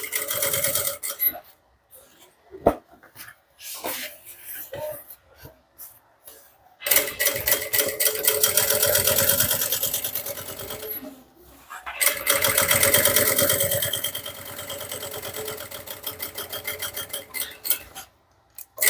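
A sewing machine stitches an edge seam along an overlapped bag piece in several bursts of rapid mechanical chatter, separated by quiet pauses and clicks, close and clear.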